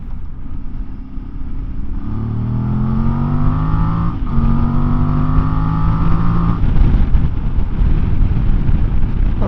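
Voge DS800X or DS900X adventure motorcycle accelerating hard at speed, a loud close engine note climbing through the gears with rising pitch sweeps and a shift, then steady roaring wind and engine noise.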